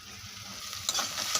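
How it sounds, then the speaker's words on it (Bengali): Hopa frying in hot oil, a steady close bright sizzle with small crackles and a few spatters near the end, no voices. "এখানে হোপাটা ভাজা করছি"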